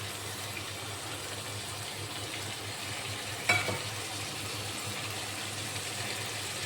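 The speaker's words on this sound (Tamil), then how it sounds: "சிக்கன் வதங்குது." Chicken sautés in a pan for biryani, giving a steady soft sizzle throughout, with one brief clatter partway through.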